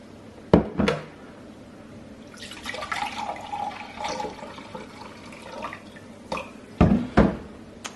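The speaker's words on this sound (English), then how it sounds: "And then I'm gonna pour it in the bottle." Vinegar pours and gurgles into a bottle in a short stream, framed by a few sharp knocks of a container being handled nearby.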